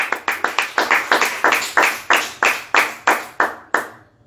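Applause at a religious charity livestream gathering, a run of loud, evenly spaced clap bursts, roughly two or three a second, close by and without talk, fading out at the end.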